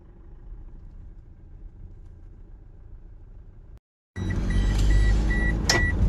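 A car starting up and pulling out, a steady low engine rumble for almost four seconds, a short silent gap, then a louder, closer burst of engine and road noise with higher mechanical tones.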